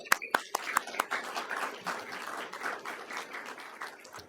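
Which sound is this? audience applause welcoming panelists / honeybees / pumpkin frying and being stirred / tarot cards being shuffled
audience applause welcoming panelists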